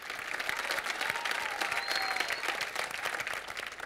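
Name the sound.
audience applause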